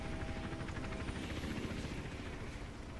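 A helicopter flies in the Hitman: Absolution video game during a rooftop chase, giving a continuous, loud rotor thrum and engine whine that holds steady throughout with no voices.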